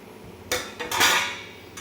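Semolina goes into a pan of ghee and gets stirred, giving a few sharp metallic scrapes and clinks of a spoon against the pan, with a brief rush of grainy sound. No one talks.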